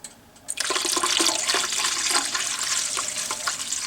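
Water pours steadily into a pressure canner for home canning of meat spaghetti sauce, a brief quiet moment then a loud continuous splashing stream close by, alone without talk.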